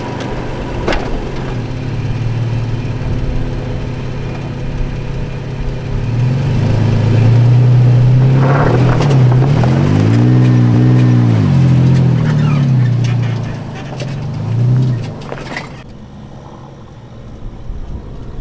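A 4x4 vehicle in four-low pulling forward on traction boards out of a bunker, its engine idling and then revving up in several rising and falling surges before easing off, with no voices.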